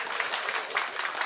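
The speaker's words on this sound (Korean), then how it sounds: "박수 한번 쳐주시기 바랍니다" Applause from an audience at a community crime-prevention meeting in Chilgok, North Gyeongsang, a short steady patter of clapping heard alone at moderate level.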